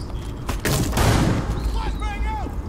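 Gunfire in Rainbow Six Siege comes from several directions: a dense volley of loud, close shots and a boom early on, then fainter shots and tonal game effects. Someone talks over it.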